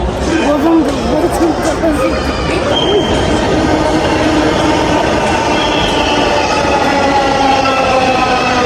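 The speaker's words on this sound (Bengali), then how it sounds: "আমরা ওয়েট করতেছি এখনই আসবে ট্রেন" A metro rail train arrives at an elevated station, a loud steady rumble of rolling carriages with some wheel squeal, while people on the platform talk and chatter throughout.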